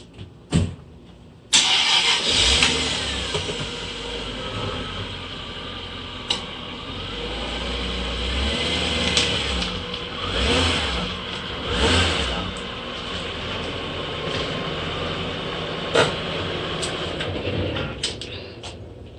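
Jaguar XJR sedan engine starting, then idling and revving gently as the car creeps slowly up race ramps for an oil change, a loud, close, steady engine rumble with occasional throttle swells.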